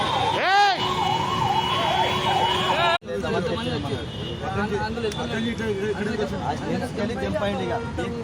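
An ambulance siren wails nearby at a busy city traffic circle, its rising and falling tone loud at first, then joined by a crowd of overlapping voices and street chatter that carry on to the end.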